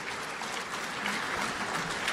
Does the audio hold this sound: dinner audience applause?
yes